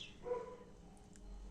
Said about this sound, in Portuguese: os cachorros ali latindo